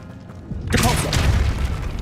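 A Depulso spell cast in the video game Hogwarts Legacy bursts in after a quiet moment as a sudden loud whooshing boom, then a rumbling, shimmering tail that lingers at full strength.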